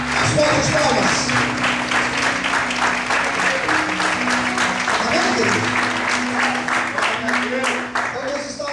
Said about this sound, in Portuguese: As portas, palmas.